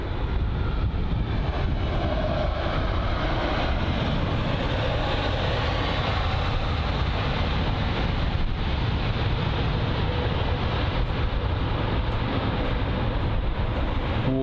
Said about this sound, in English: The Cathay Pacific Boeing 777 making its way over to runway 27 left for a departure.